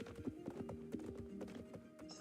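Hooves of a Noriker horse clip-clop on a hard surface in a quick irregular rhythm, close and distinct, with faint tonal background sound underneath.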